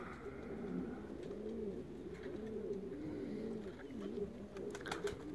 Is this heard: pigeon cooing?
yes